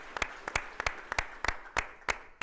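At a Loyola Academy fundraiser, people clap for donors in a slightly uneven, steady beat, crisp close claps sometimes doubling up, standing out alone against a quiet room with no voices.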